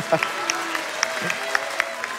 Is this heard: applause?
yes